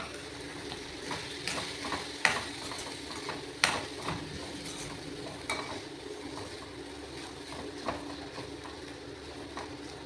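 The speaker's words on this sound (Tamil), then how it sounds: "ரவையை கொஞ்சம் நேரம் வறுத்துக்கலாம்." Wheat rava (semolina) roasts in a pan under a steady soft sizzle, with intermittent spoon scrapes and taps against the metal, close and without voices.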